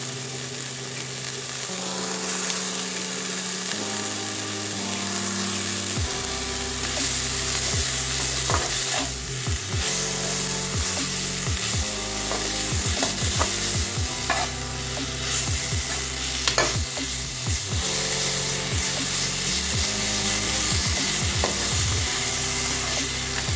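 Sour tenga leaves fry in a pan with salt and turmeric for Assamese small-fish curry, a steady hiss of sizzling under repeated scraping stirs that go on throughout.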